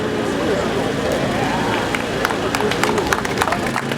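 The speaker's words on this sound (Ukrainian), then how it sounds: "Будь ласка, оплески" Audience at a 70 kg wrestling bout award ceremony claps amid crowd hubbub, a steady wash of applause with sharper individual claps growing more distinct toward the end, people talking underneath.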